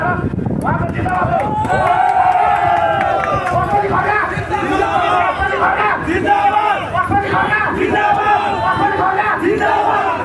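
Large political rally crowd in Nepal roaring with cheers and chanting, a dense continuous wall of massed voices and shouts filling the scene throughout at steady loudness.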